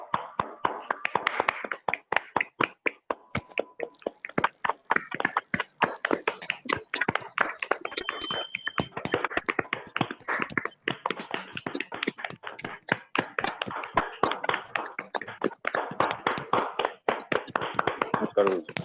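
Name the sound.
applause welcoming the speaker Anil sir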